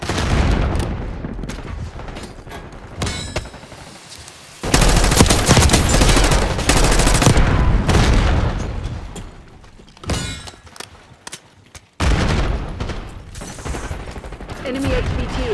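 Dense Call of Duty combat: heavy automatic gunfire and explosions, loud and near, in sustained bursts broken by short lulls, with voice chatter mixed in.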